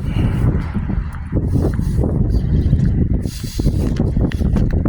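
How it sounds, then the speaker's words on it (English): Rain falling outdoors on a street with gusty wind, a dense steady patter and buffeting wind noise against the microphone, loud and close, with no voices. "So I'm getting hit with rain."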